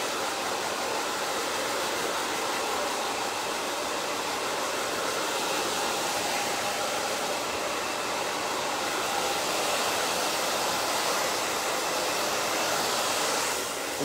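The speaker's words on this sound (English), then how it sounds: "So I'm gonna pre-dry all these roots." A hair dryer with no nozzle blows at full power while pre-drying hair roots during a layered scissor haircut, a loud, constant, close whooshing roar throughout.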